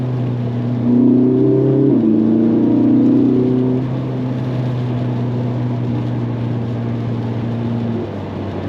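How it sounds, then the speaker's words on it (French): A Ferrari 458 Italia with its 4.5-litre V8 drones steadily on the move, a loud low engine note rising briefly near the start, then settling into an even cruise and easing off toward the end. "Écoutez cette sonorité que procure le véhicule."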